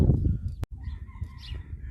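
Chickens cluck and call nearby over a low background rumble, with a brief dropout partway through.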